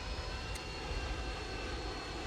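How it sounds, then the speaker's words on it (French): A small airplane in the Roblox Mad City video game drones with an even, moderately quiet engine hum, steady throughout apart from one brief high click early on. "donc nouveau petit avion, sympa, franchement"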